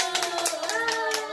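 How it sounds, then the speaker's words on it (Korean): Children clap together at a nursery-school Pinocchio puppet show, a brief burst of quick hand claps over a faint hum of a voice. "다 같이 박수."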